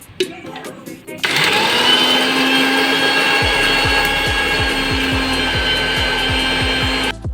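A mixer grinder blends fried onion and ginger into a paste with a loud, steady high-pitched whine that starts abruptly after a second, runs about six seconds and then cuts off, with a faint rhythmic knocking underneath.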